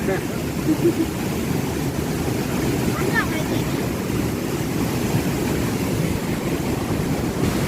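A waterfall in Champasak, Laos, roars as a steady broadband rush of falling water, loud and continuous throughout, with wind buffeting the microphone.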